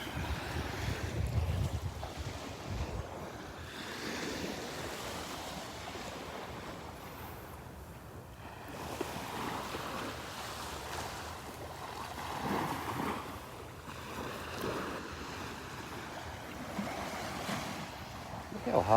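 Ocean surf washing onto a sandy Gulf beach during a morning beach walk at Delnor-Wiggins, a steady broadband wash with gusty wind buffeting the microphone throughout, no clear individual wave crashes standing out.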